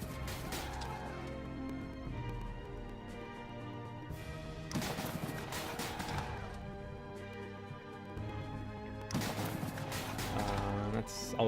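Artillery in the Civil War strategy game Battlefields Civil War, repeated booming cannon blasts at intervals over a steady musical score, with someone talking in between.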